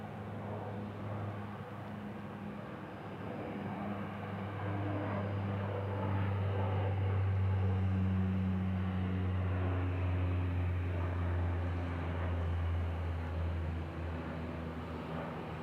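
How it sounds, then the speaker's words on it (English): An airplane taking off at Kansas City International Airport makes a steady, distant roar that swells to its loudest midway, then slowly fades, with no voices. "Nice takeoff indeed, Sarah."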